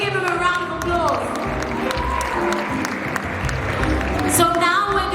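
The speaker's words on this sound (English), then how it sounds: "Please, can we give him a round of applause?" Audience applause at an awards event honoring the best dressed guests, a steady dense wash of clapping mixed with crowd noise and a voice speaking over it throughout.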